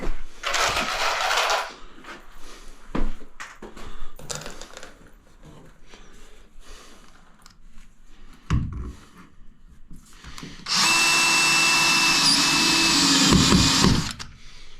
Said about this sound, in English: I'll throw a few screws in there.